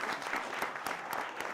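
Audience at a mines first aid and safety competition applauding a prize winner, a brief, fairly faint burst of many hands clapping steadily, heard from some distance without talk.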